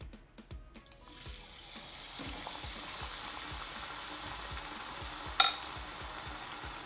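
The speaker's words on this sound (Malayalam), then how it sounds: "ഇനി നമുക്കിത് ഓരോന്നോരോന്നായി ഫ്രൈ ചെയ്തെടുക്കാം." Batter-coated cabbage rolls stuffed with vegetables sizzle steadily in hot oil, a close, continuous crackling fry with a few sharper pops.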